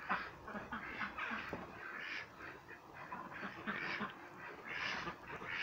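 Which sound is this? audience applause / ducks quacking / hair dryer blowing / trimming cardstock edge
ducks quacking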